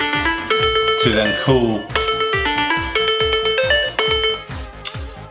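A phone rings after the button on a TrackR tracker is pressed, playing a loud, close, repeating melodic ringtone with bright chime-like notes; a voice speaks briefly over it.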